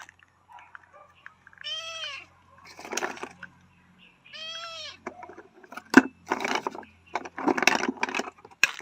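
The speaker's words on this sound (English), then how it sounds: "I attract all the cats" Inside a house in the Philippines, a cat meows twice, clearly and close by, with pauses between the cries, followed by rustling and knocking handling sounds.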